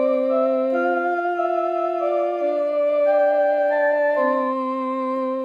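A Casiotone MT40 keyboard on its Oriental Pipe voice plays a slow, sustained melody of a few held, stepwise notes with a nasal, reedy tone, steady and fairly loud, with no voices.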